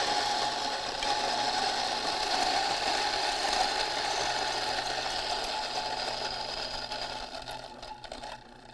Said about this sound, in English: Working the grinder from behind,